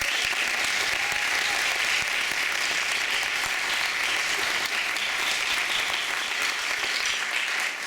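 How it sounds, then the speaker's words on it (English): A big round of applause from a concert audience in a college of music auditorium at a youth jazz band spring concert, a steady, dense wash of many hands clapping that continues without a break. "I'd like to start by just having us give a big round of applause to McNally Smith"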